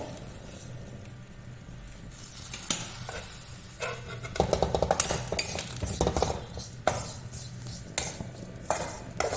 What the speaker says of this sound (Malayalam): കുറച്ച് കറിവേപ്പില ഇടുന്നുണ്ട്